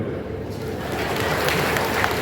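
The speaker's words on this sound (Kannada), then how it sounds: "ಚಪ್ಪಾಳೆ" Applause from an audience at a university graduation ceremony, a steady broadband wash of clapping that swells slightly and continues throughout, fairly loud and without any talk over it.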